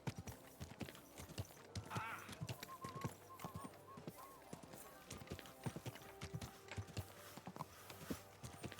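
Horse hooves clip-clop at a steady walk in the video game Kingdom Come Deliverance 2, a close rhythmic patter of moderate loudness with faint background ambience throughout.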